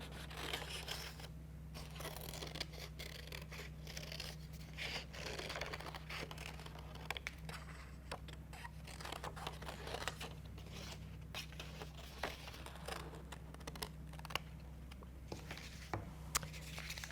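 Scissors cut through plain white copy paper with quick, crisp snips close by, a steady run of small crunching cuts over a low constant hum, with no talking.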